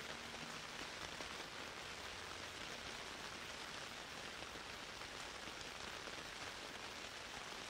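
Steady, soft rain pours without pause, an even close hiss of countless drops on a surface with no voices or other sounds.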